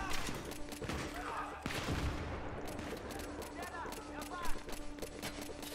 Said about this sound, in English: I'm just shooting blind because I can't see Jack.